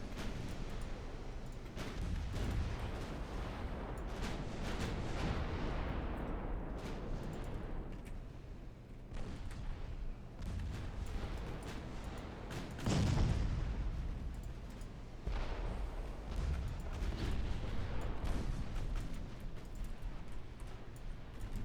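Naval gunfire from warships in Ultimate Admiral Dreadnoughts, sinking a cruiser: continuous low rumbling booms and distant explosions. A heavier blast stands out partway through, over a steady roar of battle.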